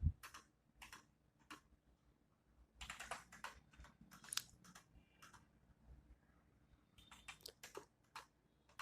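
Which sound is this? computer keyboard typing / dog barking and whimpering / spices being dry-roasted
computer keyboard typing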